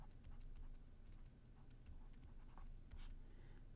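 Chalk or marker writing on a board during a math lecture, a quiet run of scratchy taps and strokes in an irregular rhythm over a low room hum.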